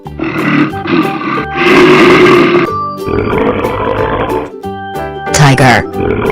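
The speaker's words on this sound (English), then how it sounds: "Gorilla." A gorilla's deep, heavy grunts and roaring vocalizations, loud and close, come in several bursts over a steady musical backing, as part of a kids' animal sequence.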